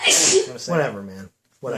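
A single sharp sneeze bursts out at the start, loud and close, followed right away by someone speaking.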